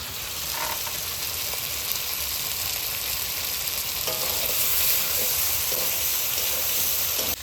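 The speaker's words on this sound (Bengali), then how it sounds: "মাংসটা হাফ কষে নিয়েছি, এবারে মিট মশলাটা দিয়ে দেবো।" Duck meat sizzles and fries in a pan while meat masala is stirred in, with a steady broadband sizzle and occasional scraping stirs that continue throughout, near and fairly loud, with no talking.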